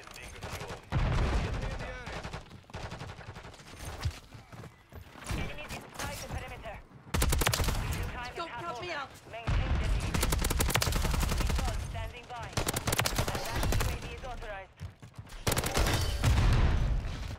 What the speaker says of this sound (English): Hostile remote turret is active.